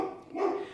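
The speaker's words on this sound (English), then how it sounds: "That's my dog Ruger." Ruger, a dog, lets out a single short, fairly faint bark with a brief lead-in.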